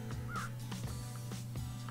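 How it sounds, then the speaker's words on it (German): A raven in the Minecraft video game gives a run of several rhythmic caws at moderate distance over a steady low background hum; no voices. "Da ist ein Rabe gewesen."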